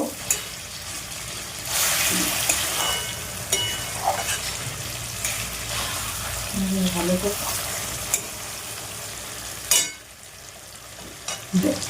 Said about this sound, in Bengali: নাড়তে নাড়তে খুব সুন্দর করবো